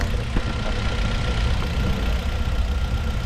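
Engine of a used Hyundai Accent car idling with the hood open, a steady, loud low rumble with a faint ticking knock, close up and with no talk.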